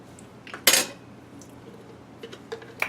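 Mayonnaise scooped into a half-cup measuring cup for a keto crockpot chicken dish, heard as one sharp, close scraping clink of utensil against cup, followed by a few quieter kitchen taps.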